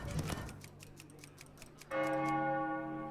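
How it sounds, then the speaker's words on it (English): A bell chimes in the Hearthstone card game, a bright ringing tone that blooms suddenly partway through and sustains over a quieter run of ticking clicks. "Oh, there's a bell."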